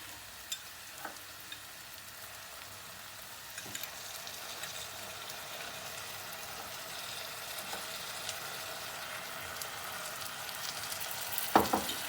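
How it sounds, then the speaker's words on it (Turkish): Tomato sauce stirred with frying peppers and onions in a pan for a chicken sauté, a steady soft sizzle with occasional scraping clinks of the spoon against the pan. "domates sosunu biberlerle soğanlarla özleşene kadar karıştırıyoruz"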